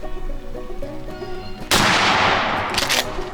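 A single loud shotgun blast from a hunting shotgun cracks out close by and rings into a decaying roar, following a stretch of quieter outdoor background.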